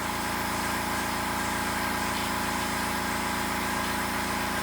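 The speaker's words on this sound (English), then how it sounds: "while my compressor pumps up" An air compressor pumps steadily during a spoke-rim motorcycle tire install on an Indian Scout, a continuous loud mechanical drone with a fast regular pulse, running alone without any talk.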